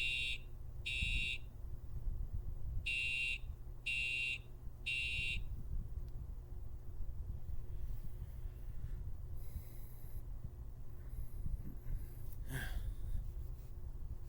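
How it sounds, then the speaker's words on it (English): A Simplex TrueAlert fire alarm sounding in sharp repeated horn bursts, five blasts in a group, over low background rumble and breathing noise. "sound of the simplex true alerts. Those ones were hell in the ears."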